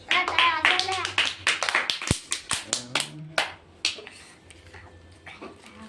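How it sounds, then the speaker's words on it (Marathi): Children clap their hands in a quick ragged burst of sharp claps, close by, mixed with excited young voices talking over it. "टाळ्या वाजवा"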